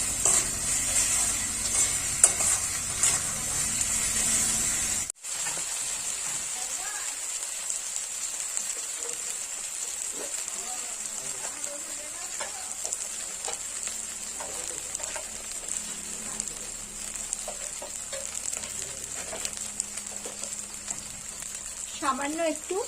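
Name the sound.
chicken masala being sautéed in a pan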